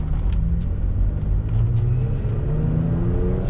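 A 2017 Toyota Tacoma pulls away in first gear with a loud, close engine rumble and a slowly rising whine as it accelerates, heard from inside the cab with no talking.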